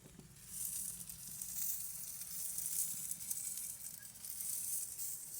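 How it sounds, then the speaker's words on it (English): Bratwurst sizzle on a closed grill with a soft, steady hiss and faint crackles. It is fairly quiet and there is no talking. "You can really hear these things start to sizzle."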